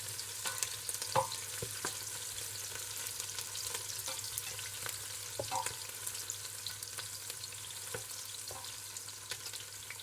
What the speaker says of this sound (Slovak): pridám do hrnca nakrájanú cibuľu a cibuľu nechám orestovať do sklovita